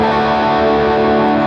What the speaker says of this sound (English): here we've got a reverse delay that you can hear has already picked up the end of my note there